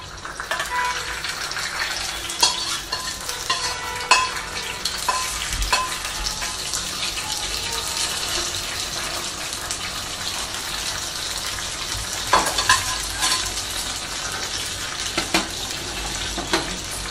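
Sakkarai pongal is stirred in ghee in a pan, giving a continuous soft sizzle and frying hiss with scraping stir strokes throughout, close and steady, with no talking.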